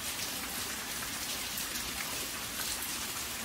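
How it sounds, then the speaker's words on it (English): Steady rainfall, a dense, even hiss of countless drops pattering on surfaces, moderately loud and unchanging with no other sounds. "I hope you have a good night's sleep with the sound of rain continuing."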